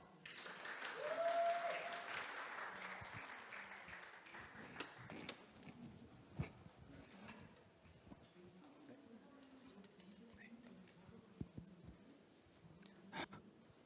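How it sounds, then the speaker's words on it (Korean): Audience applause welcomes a speaker at a Korean tech conference session on generative AI and LLMs, swelling and then fading over several seconds, followed by scattered taps and light room noise before speech begins. "큰 박수로 맞이해 주세요."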